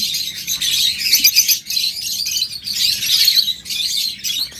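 Pet lovebirds and budgerigars chirp and tweet continuously in a busy chorus, rising and falling in waves, close and fairly loud, with no talking.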